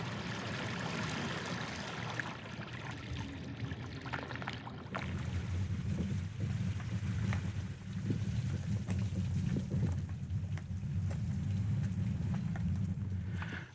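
A small electric kayak motor pushes a kayak through water with a steady low hum and churning splash, joined by gusty wind noise and a louder surge midway.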